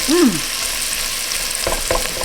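Ingredients for zuppa toscana soup sauté in a pan with a loud, continuous frying sizzle. A brief voice sounds at the start, and two stirring scrapes come near the end.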